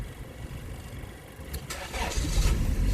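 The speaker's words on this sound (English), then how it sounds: "start the car." A 1996 Toyota Corolla engine cranks over and fires up, settling into a rough idle that grows louder toward the end, heard close by with no talking.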